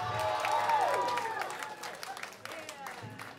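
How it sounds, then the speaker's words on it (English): Audience applause for a band member during a live set at an 18th birthday party: a crowd claps and cheers, loud at first and then thinning out over a few seconds, with a voice speaking over it. "Give him a big hand of applause."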